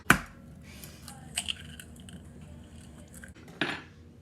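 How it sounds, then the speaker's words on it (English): An egg cracks sharply against a measuring cup while apple pie is being made: a crisp tap at the start, small clinks of glass and utensils, and another knock near the end, close and otherwise quiet. "Just gonna crack it into one of the measuring cups I've already used."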